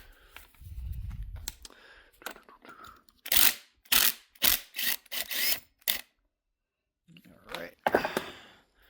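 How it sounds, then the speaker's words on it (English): A 17mm socket ratchet clicks in quick bursts while it backs out the crank bolt on a Yamaha Timberwolf / Big Bear 2X4 ATV engine, close and distinct, with a short pause and a few final clicks at the end. "So now I'm going to take my 17mm and I'm going to take this bolt out for the crank."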